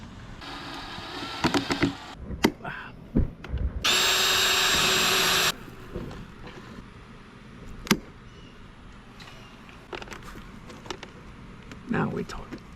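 A power drill bores holes for screws in sheet metal, with a loud steady whine lasting about two seconds between short bursts, clicks and handling knocks in a quiet setting.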